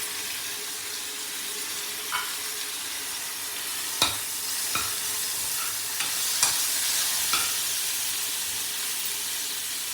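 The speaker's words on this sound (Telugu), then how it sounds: "టమాటా వేసినాక కొంచెం అల్లం పేస్ట్ వేస్తాను." Ginger paste goes into frying tomatoes for a mushroom gravy curry, giving a quiet, steady sizzle under a few sharp clicks of a utensil stirring the pan, with no talking.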